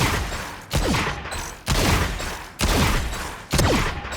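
Sheriff pistol gunshots in a first-person shooter game's aim routine, fired one after another in a steady rhythm of about four loud, sharp reports, each ringing out briefly before the next.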